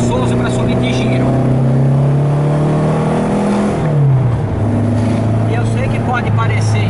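A Volkswagen Beetle engine revs loud and close, its pitch holding steady and then dropping partway through before settling into a lower drone, with no spoken words.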